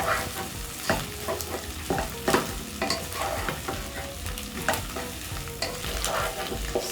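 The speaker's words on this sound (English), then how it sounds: "Then I'll give it a stir." Pork wet fry sizzles in a pan while a utensil stirs and scrapes through it, giving repeated soft clacks over a steady frying hiss, close up with no talking.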